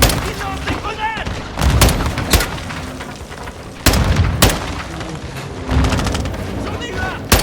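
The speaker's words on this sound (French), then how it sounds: "Attention! À couvert! Ils lancent des grenades!" Grenade blasts and gunfire in the video game Call of Duty Modern Warfare 2 come as several loud sharp bangs and booming explosions scattered among dense crackling battle noise, with shouted voices in the mix.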